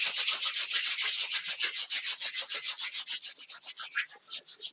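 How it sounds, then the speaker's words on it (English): Palms rub briskly together in a steady back-and-forth rhythm, a close, dry swishing of skin that slows slightly toward the end, with no voices. "So I'll begin just by rubbing your hands together."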